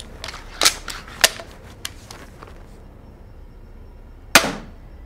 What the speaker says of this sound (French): Commençons donc par la série de 4 tirs en 130 livres.